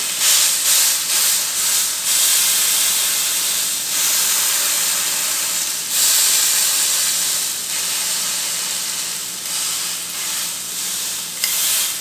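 A steak sears hard in a hot pan for the reverse-sear method, giving a loud, steady broadband sizzle and hiss that swells and eases slightly throughout, with no talking over it.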